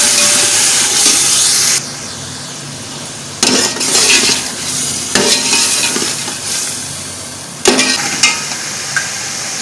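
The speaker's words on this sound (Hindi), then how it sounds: "अब इसमें मैं डालूँगी सब्ज़ मिर्चें, अदरक लहसुन का पेस्ट, इसको अच्छी तरह हिला देंगे" Green chillies and ginger-garlic paste stirred into chicken pulao frying in a pot, loud close sizzling with bursts of scraping stirring that stop and start in several spells.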